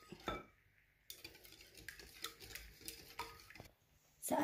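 Egg pie filling being stirred in a bowl after vanilla is added, with utensil scraping and light clinks against the dish in irregular bursts, close and fairly quiet, no voices.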